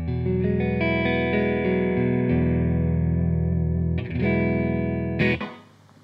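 Clean electric guitar played in stereo through a Boss Katana and a Roland Blues Cube amp, several sustained chords ringing out in turn, the last one struck and left to decay, with no talking.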